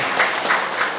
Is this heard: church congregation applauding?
yes